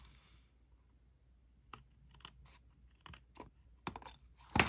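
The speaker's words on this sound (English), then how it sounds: "I'm going to take our scissors. I'm going to whack those corners." Scissors snipping the corners off a craft template, a handful of separate crisp cuts spaced over several seconds in an otherwise quiet room.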